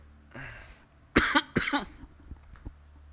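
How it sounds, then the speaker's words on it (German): A dry cough during an online Age of Empires IV multiplayer session: two or three sharp, close bursts standing alone, followed by faint small clicks and no talk. "Trockener Husten."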